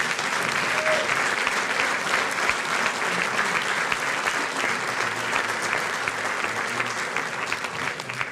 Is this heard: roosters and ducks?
no